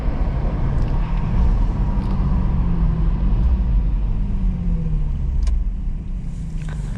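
2007 Infiniti G35 Coupe engine idling at night, a steady, close low rumble that holds even throughout, with faint cabin noise and no talk.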